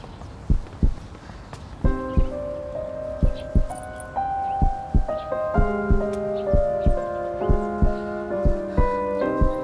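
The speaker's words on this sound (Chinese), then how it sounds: "心跳怎么这么乱？" A heartbeat sound effect in a Chinese TV drama: thumping beats fall in an uneven rhythm beneath sustained musical tones, the pulses growing more frequent and irregular as the music swells.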